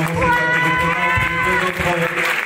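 An awards-ceremony crowd claps and cheers continuously while music with sustained tones plays, the dense applause steady and loud throughout, with a voice faintly mixed in.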